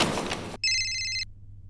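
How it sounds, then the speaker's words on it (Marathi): A phone rings once with a short, bright electronic trill that follows a burst of noise and then stops abruptly, leaving quiet. "घरनं फोन येतोय."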